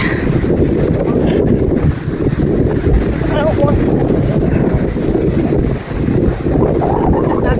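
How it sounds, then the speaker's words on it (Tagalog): Constant wind rumbles hard against the microphone, loud and steady, while people chat over it. "Ang sarap ng hangin"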